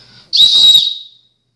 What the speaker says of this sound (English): Is a whistle, and it doesn't look that big or powerful